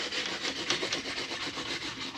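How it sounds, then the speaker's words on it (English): Sandpaper (80 grit) rubs back and forth on wood in quick, even strokes, a close, gritty rasping that repeats steadily. "Now when you're doing this sanding, it's a light sanding."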